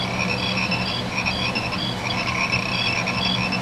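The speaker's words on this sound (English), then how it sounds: "Crickets" Steady chorus of chirping crickets, several high repeating trills layered over a constant low background hum, continuous and fairly loud with no voices.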